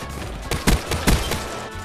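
Gunfire crackles in Call of Duty on the Nuketown map, with several sharp shots in an irregular burst at moderate loudness and no talk over it.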